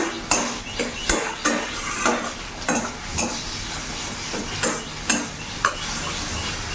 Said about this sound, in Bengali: এবার ভালো করে আমি টাড়া করে নেবো গ্যাসের ফ্লেমটা একটু বাড়িয়ে দিলাম